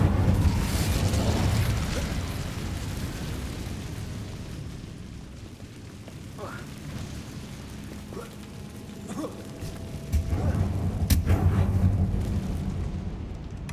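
An Incendio fire spell is cast in Hogwarts Legacy, giving a whooshing burst of flame with crackling pops over a rumbling game background, then a second louder flare near the end.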